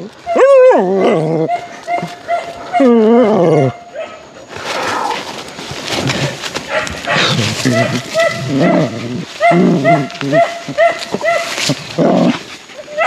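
A hunting dog in a Trinidad forest yips, whines and barks in loud, close bursts, with pitch sliding up and down; people talk nearby.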